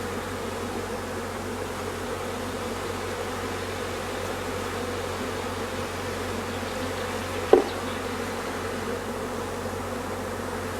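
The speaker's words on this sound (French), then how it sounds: "Je fais attention de ne pas écraser d'abeilles, parce qu'il y en a plein là partout." A swarm of honeybees clustered at the front of a hive during a first swarming, a dense, steady droning hum with a brief sharp tap partway through.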